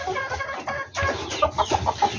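Chickens kept in a breeding cage cluck close by in a quick series of short, repeated calls against a low background hum.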